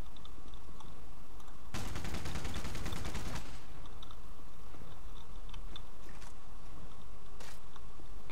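A burst of rapid automatic gunfire from a weapon in the Rogue Warrior shooter game rattles loudly for about two seconds, followed by quieter clicks and a single sharp shot amid a faint game background.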